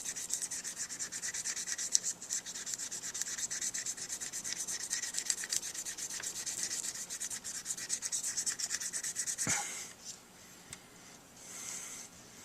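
Steady, close rubbing and sanding strokes of a sanding stick scratch continuously against a saxophone mouthpiece, with a brief sharp knock near the end.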